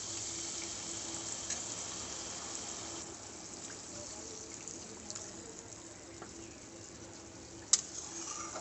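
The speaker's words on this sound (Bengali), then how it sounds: "জল দিয়ে দেবো এবারে।" Water pours steadily into a hot pan holding a Bengali fish roe curry with green chillies, a continuous watery rush with faint sizzling underneath and a sharp clink near the end, fairly close, with no talking.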